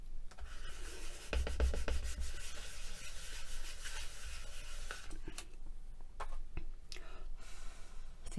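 A veneer pendant being burnished by hand, with close, steady rubbing strokes that come in repeated scratchy bursts and fade into scattered lighter rubs.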